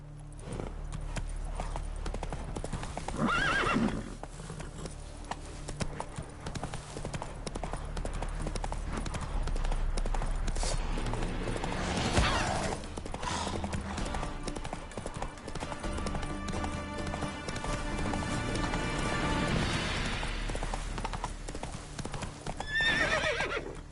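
Hoofbeats of the horse Roach galloping in The Witcher 3 game, a continuous fast clip-clop with whinnies and neighs breaking through, loud and close, with game ambience underneath.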